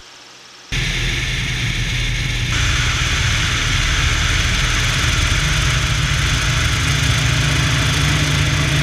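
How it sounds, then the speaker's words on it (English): A Grumman amphibian aircraft throttles up on the water for takeoff. After a quiet moment, its engines cut in abruptly with a loud, even droning roar that holds steady and grows slightly fuller. "We'll stay on the step just a little bit, then we're going to do a takeoff."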